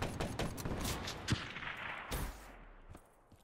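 Rapid gunfire from a weapon in the video game Black Ops 3, a loud burst of close, dense shots running for about two seconds, then tapering into scattered fainter pops.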